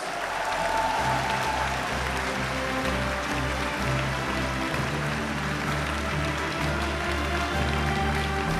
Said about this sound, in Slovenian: Aplavz!